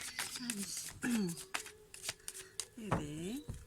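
Tarot cards from an Indira major arcana deck being shuffled by hand, a close, soft run of papery riffles and slaps, with a voice speaking quietly through it.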